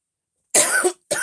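Two bursts of coughing, the first a longer harsh hack and the second a short one, close and fairly loud with no talking, from someone doing acrygel dual-form nail work who complains of dust.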